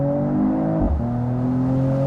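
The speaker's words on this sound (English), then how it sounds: "So once again, Sport Plus mode, and we can accelerate it out, for example," A 2021 Mercedes E53 AMG convertible pulls hard from about 50 km/h in Sport Plus mode, its engine droning loud and close, with a brief dip as it shifts before the pitch climbs again.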